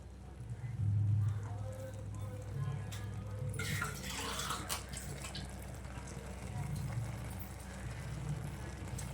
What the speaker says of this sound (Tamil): ஒரு கப்பில் தண்ணி சேர்த்துடலாம்.